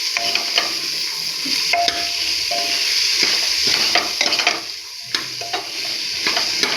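Mixed vegetables, including cauliflower and capsicum, stirred and fried in a pan, with a steady loud sizzle and repeated scraping stirs throughout, no voices.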